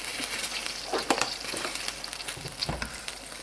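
Food frying in hot oil in a covered pan on high heat. A close, steady sizzle runs throughout with a few scraping stir sounds, and no one talks.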